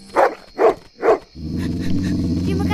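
Three sharp, evenly spaced dog barks from a cartoon, loud and close, followed by a steady musical backing that carries on after the barking stops.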